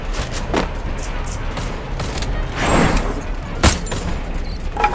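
A bomb goes off in a video game match, a muffled boom among bursts of gunfire and thuds at moderate distance, the impacts scattered over a few seconds.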